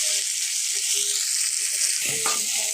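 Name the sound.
fish (mrigal) frying in oil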